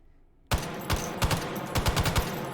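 An M60 light machine gun in the H3VR virtual-reality game opens up after a quiet moment, firing several short bursts with uneven gaps, loud and close.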